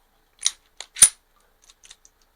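A Ruger LC9s pistol dry fired with no magazine inserted, giving a few sharp, close metallic clicks followed by fainter small rattles and ticks in an otherwise quiet space.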